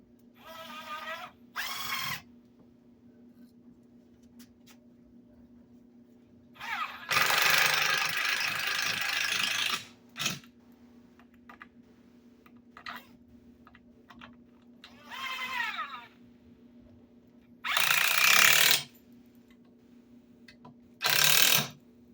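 A power drill drives screws to attach a leg to a small wooden table, with several short whirring bursts of varying length separated by quiet pauses and light handling clicks, heard close up.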